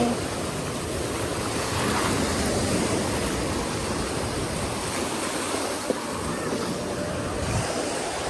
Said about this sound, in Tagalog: Mataas yung alon.